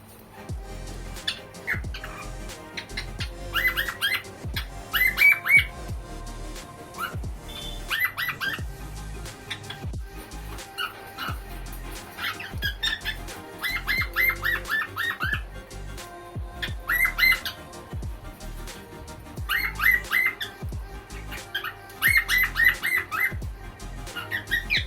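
Baby cockatiel parrots chirping and squawking indoors, repeated bursts of shrill close calls and squawks separated by short quiet gaps, loud and busy throughout.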